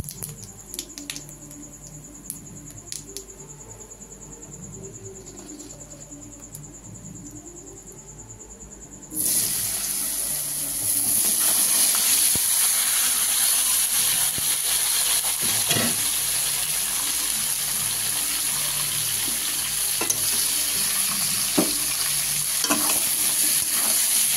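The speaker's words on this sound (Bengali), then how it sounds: "এবার আমি কেটে রাখা আলু আর কচুটাকে দিয়ে দেবো তেলে" Cut potato and taro pieces go into hot oil already seasoned with bay leaf and whole cumin. A quieter low crackle gives way to a sudden loud, steady sizzle, with occasional stirring scrapes and no talk.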